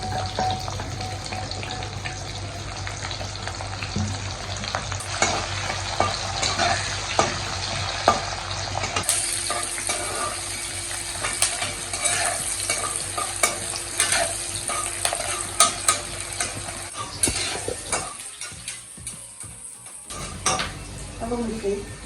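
Chopped onion sizzles and fries in a pan with cumin and fenugreek seeds for a Sindhi bottle gourd curry, with a spoon repeatedly scraping and clinking against the pan over a steady, fairly loud hiss.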